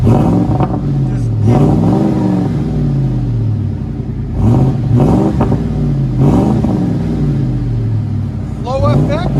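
A 2007 Ford F150 Lariat with the 5.4L Triton V8 and a Flowmaster Flow FX exhaust with a 4-inch camo tip, revving loudly in repeated rising and falling bursts over a deep, rumbling idle, recorded up close.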